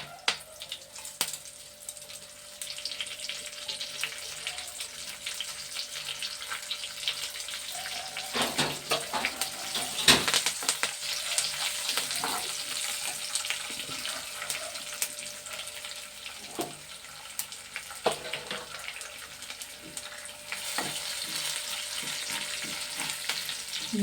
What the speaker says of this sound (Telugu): పచ్చిమిరపకాయలు ఎల్లిపాయలు వేస్తున్నానండి. మినపప్పు పోపులు వేసేస్తున్నాను.